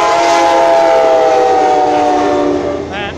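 A loud train horn blares steadily at close range over the rumble of a passing southbound Amtrak Talgo passenger train with an ex-F40PH cab-control car, then fades slightly at the end.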